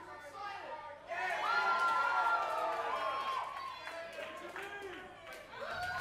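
A crowd roars and cheers for a heavyweight championship wrestling match in New Zealand, a loud, dense swell of many voices that rises sharply after the first second and stays thunderous, with excited shouts rising above it.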